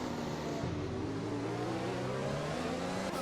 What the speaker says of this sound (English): Here we go, downhill, braking into turn 5.